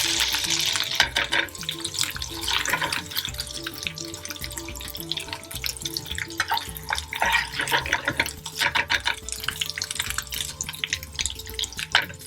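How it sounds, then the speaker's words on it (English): Garlic and ginger paste sizzling and spitting in a hot pan, a steady crackling fry with irregular pops and bubbling throughout, close and fairly loud with no talking. "now I'm going to add my garlic and ginger paste"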